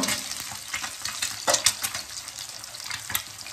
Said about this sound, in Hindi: तो यहाँ पे जो सबसे पहले अंडा फ्राई करेंगे तो ये साबा को मिलेगा अंडा फ्राई।